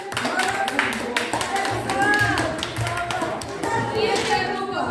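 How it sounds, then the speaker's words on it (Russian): Children in a group at a training seminar clap their hands in sharp, uneven taps and beats, close and fairly loud, while voices talk over the clapping. "Хлопаем в группе"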